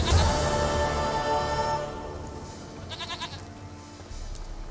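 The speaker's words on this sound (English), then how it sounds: "Goat of mine, dearest," A goat in Witcher 3 lets out a bleat, fairly loud and close, over game ambience, with a brief higher call partway through.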